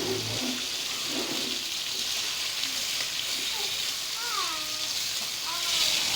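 Sliced potatoes and tomatoes fry in a pan with a steady, close sizzle that runs throughout, with occasional spoon stirring and faint voices in the background.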